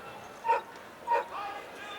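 Greyhounds in the starting traps before an Open 550-yard race at a 2004 Irish Oaks meeting give two short, sharp barks about half a second apart, then a fainter yip, against a low murmuring crowd.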